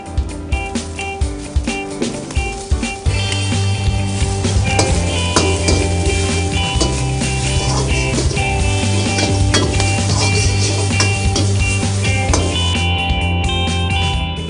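Washed gongura leaves hit hot oil with curry leaves in a pan, bursting into a loud, sustained sizzle, with sharp spatula scrapes and clinks on the pan marking the stirring early on.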